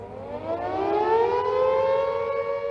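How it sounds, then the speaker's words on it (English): An air raid siren, the wartime civil defense warning of Blitz-era Britain, wails steadily and loudly, its rising and falling pitch sustained without pause and heard alone. "they'd hear an air raid siren, which meant that enemy planes were in the area and might be dropping bombs"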